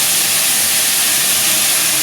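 Yardlong beans fry in a hot pan with a loud, steady, unbroken hiss of sizzling oil that fills the whole short stretch.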